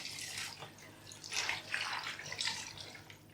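Chicken stock is poured into a soup pot for Scottish cock-a-leekie soup, a steady, close splashing liquid stream running the whole time and swelling in brief surges.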